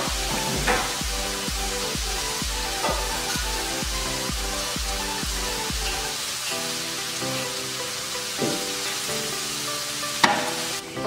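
Sliced onions sautéing with salt in a pan for Kerala-style karimeen fish molee give a steady frying hiss. A rhythmic tonal beat runs under the first half, and a sharp clink comes near the end. No speech.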